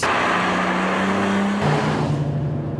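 A car engine drones loudly and steadily as it accelerates at high speed on an open road, its tone holding firm and then shifting lower after a gear change partway through.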